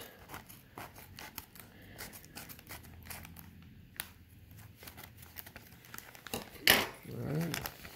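A shipping package from a large trading-card lot is cut open, with soft handling rustles leading up to a sharp, close snip and crinkle of packaging near the end.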